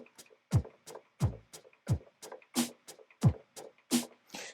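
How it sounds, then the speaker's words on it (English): Built-in drum beats from an electronic keyboard: a steady pattern alternating deep kick thumps and bright snare hits with light ticking hi-hat between, moderately quiet and without voices. "including this top keyboard has drum beats"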